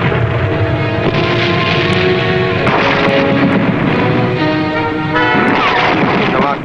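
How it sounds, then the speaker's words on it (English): Heavy gunfire aimed at a submarine booms and rumbles continuously, loud and dense, with sustained tones layered over the barrage. "poured a stream of gunfire at the submarine"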